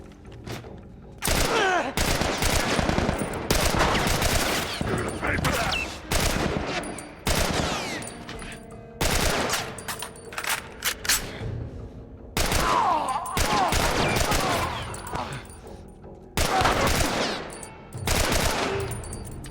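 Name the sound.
gunfire in the video game The Last of Us Remastered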